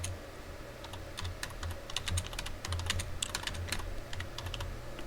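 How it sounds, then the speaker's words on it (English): Someone types steadily on a computer keyboard close to the microphone, quick light clicks in uneven bursts with short pauses, over a low background hum. "I'm typing around my microphone, so it's a little hard for me to type"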